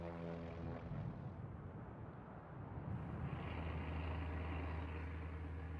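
A WWII PBY Catalina flying boat flies on a night mission. Its engines give a steady, droning hum with a low harmonic tone that shifts slightly midway, continuous and fairly close, with no voices.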